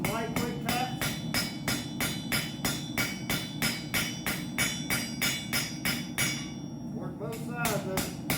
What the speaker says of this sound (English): just some light quick taps.